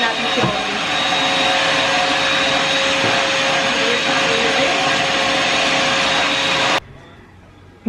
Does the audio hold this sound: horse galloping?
no